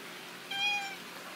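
A friendly cat gives one short, clear meow close by, against quiet background hiss.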